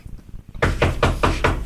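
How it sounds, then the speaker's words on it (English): A loud, close series of six evenly spaced raps on a door, coming after a brief stretch of quieter background sound. "He's going to knock on the door."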